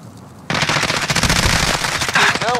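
Rapid automatic gunfire erupts in a shooting video game after a brief quiet moment, then continues as dense, loud bursts of shots to the end of the clip.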